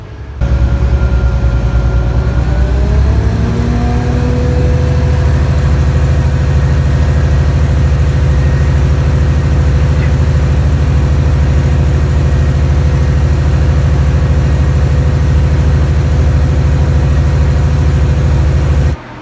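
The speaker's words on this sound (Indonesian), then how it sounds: "kebisingan dari mesin itu bisa masuk ke dalam kabin teman-teman" Diesel multiple-unit railcar engine of the KA Bias train, heard from inside a passenger carriage as a loud, steady low rumble with droning tones that shift in pitch early on, then hold constant throughout.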